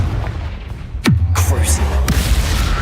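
A Confringo blasting spell fires in the video game Hogwarts Legacy, a quick descending whoosh followed by a deep, rumbling boom, with a few lighter bursts scattered around it.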